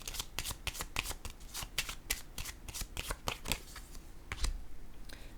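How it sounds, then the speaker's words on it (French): Tarot cards riffle and slap in a steady run of crisp shuffling snaps, close and fairly quiet, with a firmer tap near the end as a card is laid down. "Je vais déposer une autre carte."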